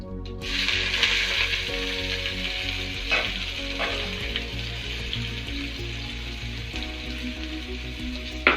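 Onion hits hot oil in a pan while shahi paneer is being cooked, and a loud steady sizzle and fry starts right away and holds throughout, with faint stirring scrapes now and then and no voices.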